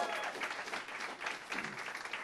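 A steady round of applause from a small audience at a live rock concert at the RP Funding Theater, clapping continuously with no voices over it.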